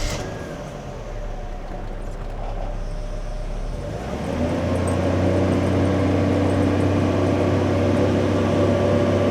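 A Mercedes coupe engine idles close by with a faulty EHA valve, a steady rumble and hum that deepens and grows slightly louder partway through, with no one talking.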